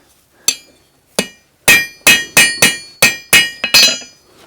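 A farrier hammers a horseshoe, about ten sharp ringing metal strikes, sparse at first and then in a quick steady rhythm, loud and close with brief decays and no talk.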